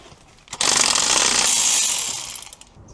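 A power tool with a T50 Torx bit removing the pulley bolt on a BMW E46 during a cooling system refresh, a loud close burst of rattling mechanical whirring lasting over a second before tapering off.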